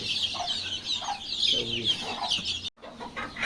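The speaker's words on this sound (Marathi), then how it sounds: "ह्या त्यांच्या कोंबड्या आहेत" Village chickens, a mix of Kaveri and Sonali breeds, cluck close by with chicks peeping in high chirps, brief clucks repeating irregularly over a quiet farmyard.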